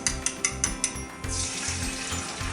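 Beaten eggs hit a hot pan and sizzle, preceded by a few sharp clinks of a utensil, then a steady bright hiss and crackle close up, no voices.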